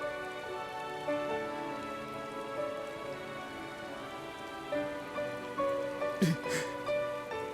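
In the video game Final Fantasy XIV Endwalker, rain patters steadily on surfaces beneath sustained, softly tonal background music, staying fairly quiet and even throughout.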